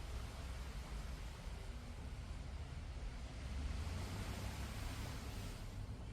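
Steady rushing surf of ocean waves breaking against rocks at Fort Point Lighthouse Park, Liverpool, Nova Scotia, a continuous broadband wash with low rumble, close and moderately loud, no voices.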